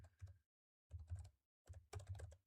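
Fast typing on a computer keyboard, dense bursts of keystrokes clattering up close in three runs separated by short pauses, with no voices.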